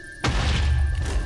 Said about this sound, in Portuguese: Porque explodiu.